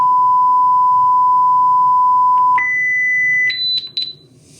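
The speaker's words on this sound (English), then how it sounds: "we can play a test tone to make sure that it's synchronized" Electronic test tone played through synchronized Bluetooth LE audio boards on an nRF5340 Audio DK: a steady loud beep that steps up in pitch twice, then short chirpy tones at the end, with no talking.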